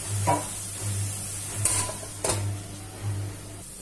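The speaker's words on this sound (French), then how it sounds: "Je mélange et je couvre et je laisse mes oignons cuire." Onions cook in a covered pan with a low, steady hum and a soft sizzle, broken by a few sharp clicks and clatters of a spoon or lid.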